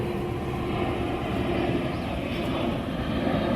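Airplanes pass overhead near an airport, a steady loud engine roar and rumble filling the whole stretch without pause.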